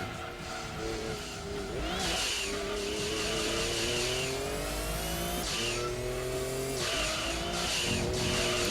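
A rear-driven Mazda RX-7 in a Gran Turismo 2 one-make race screams loudly, its engine revving up through repeated rising gear sweeps while tires squeal and skid in long stretches.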